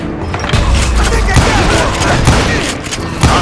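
Rapid gunfire in the video game Call of Juarez: Gunslinger during a shootout with dozens of deputized shooters, a dense volley of loud shots layered with game effects.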